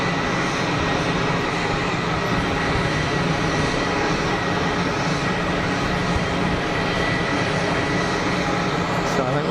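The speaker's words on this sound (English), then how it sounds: "So I think we're just going to catch the Dreamliner going out" A Boeing Dreamliner departing Geneva Airport, a loud continuous engine roar heard from a spotting terrace, steady throughout with a dense broadband rumble.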